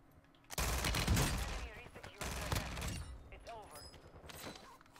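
FTAC Siege fire in Warzone 2 comes in two loud, rapid close-range bursts followed by a fainter shot, with some mechanical clatter and a voice speaking.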